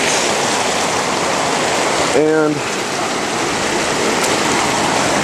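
A small creek runs over a little waterfall, giving a steady, close rush of water throughout, with a voice briefly speaking over it.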